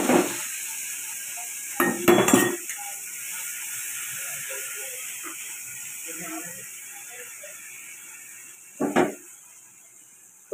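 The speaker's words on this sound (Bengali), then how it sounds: "এই গরম তেলের মধ্যেই আমি লঙ্কা হলুদটা দিয়ে দিলাম।" Chili-turmeric paste mixed with water hits hot oil with a loud crackling burst, then settles into a long steady hiss. Utensils clatter and a second burst comes later, while a voice murmurs faintly in the background.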